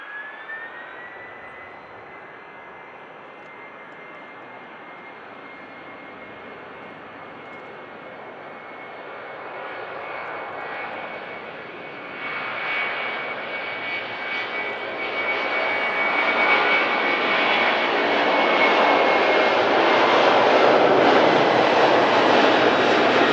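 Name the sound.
aircraft taking off from airport runway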